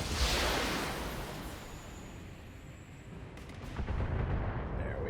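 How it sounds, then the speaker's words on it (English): Missile barrage from a Vindicator mech firing its long-range missile launcher in the Battletech video game, a loud, dense rumble of rapid launches and blasts that swells at the start, dips, then builds again toward the end. "I'm starting off my barrage with the Vindicator, who's equipped with a particle projection cannon and a long-range missile launcher."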